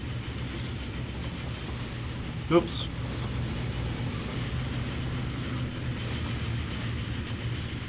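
A train rolls along in the Transport Fever video game, a low steady rumble and rail hum throughout, with a short sharp rising squeal midway and someone talking over it.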